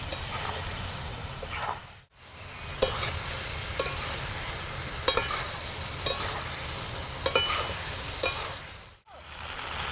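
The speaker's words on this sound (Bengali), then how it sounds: "পকোড়াগুলো সব আমি দিয়ে দিলাম এবার ভালো করে মিশিয়ে নেবো" Fried pakoras being stirred into a cabbage curry gravy in a pan, with a steady sizzle and spatula scrapes repeating through the stretch; two brief gaps of silence, no talking.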